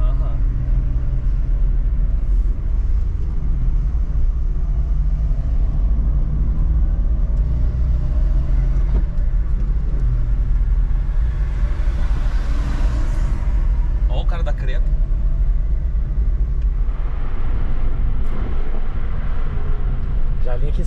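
A stage 4 VW Up racing an Audi 1.8 turbo with a six-speed DSG gearbox, heavy continuous engine rumble and road roar, loud and close, with voices talking over it.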